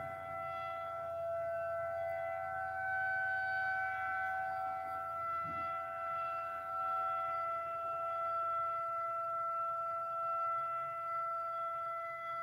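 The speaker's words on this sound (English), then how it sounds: "It's an electronic siren." An electronic civil defense siren sounds steady, sustained tones that hold without pause, distant and even in volume, with faint background noise underneath.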